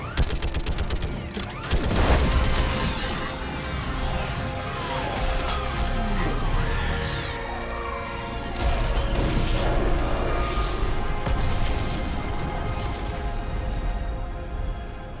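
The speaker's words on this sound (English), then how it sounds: "I need an orbital strike! We're clear! Fire at will!" Orbital strike on a Reaper base in the video game Mass Effect 3, loud continuous barrage of explosive booms, crashes and rapid gunfire-like blasts with whooshing streaks over a dense battle roar.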